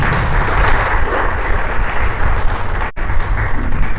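Applause from a church congregation for the Creator, a dense continuous patter of hands that holds steady for about four seconds with a brief dropout near the end.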